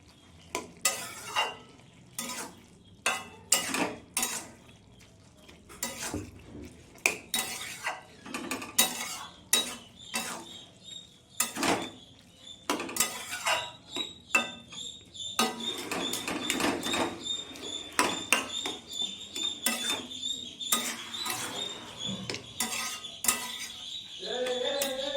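Bottle gourd and shrimp curry stirred in a pan, with steady clinks and scrapes of a utensil against the metal and a soft simmering sizzle underneath, heard close up and with no talking.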